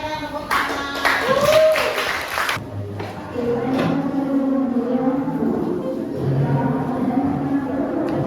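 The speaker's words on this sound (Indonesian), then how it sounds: "kalian tepuk tangan" An audience claps hands in a short burst of brisk, overlapping applause that stops after about two seconds, followed by people talking and background chatter.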